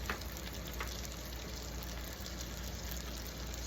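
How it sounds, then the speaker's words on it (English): Shrimp frying in a hot skillet with garlic, a dense, steady sizzle that stays even throughout with a couple of faint crackles, no talking. "Now we're going to add the shrimp to the skillet."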